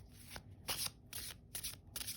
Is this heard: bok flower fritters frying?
no